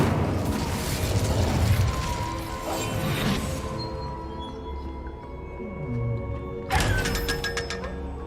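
Incendio fire spell cast in Hogwarts Legacy: a sustained rumbling whoosh fades out, then a sudden crackling fiery burst flares near the end.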